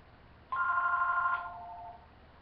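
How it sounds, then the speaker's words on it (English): A single telephone ring tone sounds in a quiet room, a clear electronic trill lasting about a second and then fading. "Sorry, the phone."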